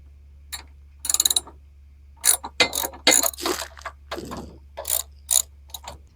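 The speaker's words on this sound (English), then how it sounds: "we'll loosen off these two 10mm nuts" A ratchet loosening two 10mm nuts on a cheap generator, several short bursts of rapid metallic clicking separated by pauses, loud and close, with no talking.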